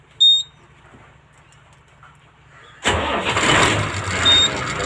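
A large Ashok Leyland diesel bus engine cranks and catches at close range after a quiet lead-in, then settles into a loud, steady running rumble with a rough mechanical clatter.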